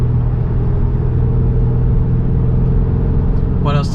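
A Polestar 1 hybrid car accelerates in power mode from inside the cabin, a loud, steady low engine and road drone holding throughout, with a brief voice sound near the end.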